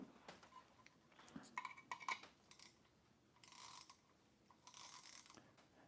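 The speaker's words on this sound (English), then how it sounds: "I'll let y'all see if you can hear them clicks" A Klein ratcheting stubby screwdriver with a Phillips 2 bit, turned counterclockwise, gives a few faint, quick clicking runs against quiet background noise with a brief rattle.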